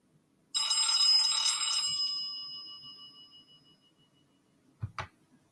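A telephone bell rings once, loud and close, in a sustained metallic trill that fades out over a couple of seconds, followed later by a brief clunk as the handset is picked up.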